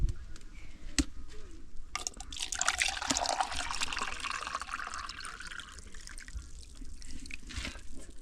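Clean water pours steadily into a pot over a firewood fire, measured for cooking rice, a continuous splashing fill with a few sharp knocks, close and fairly loud.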